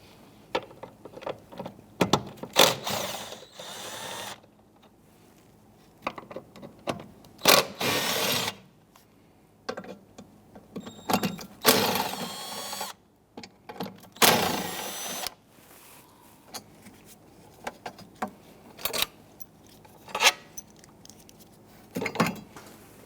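A power tool drives out 10mm bolts holding a bracket on the engine of a 2011-2021 Jeep Grand Cherokee 3.6L V6, giving bursts of buzzing ratchet whirr separated by pauses of quiet clinking, fairly close.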